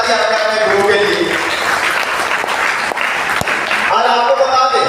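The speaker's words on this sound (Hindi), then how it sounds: "एक जोरदार ताली आपने अपने गुरु के लिए।" A crowd at a DXN talk in Basudebpur claps loudly for their guru, a dense wash of applause filling the middle stretch, with a voice speaking before and after it.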